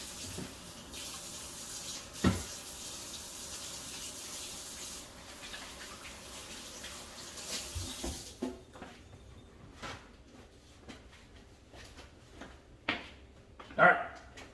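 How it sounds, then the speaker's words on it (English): Hands washed under a running kitchen tap while cooking: a steady rush of water for about eight seconds, then it cuts off, followed by a few soft clinks and knocks. "I'm gonna wash my hands again."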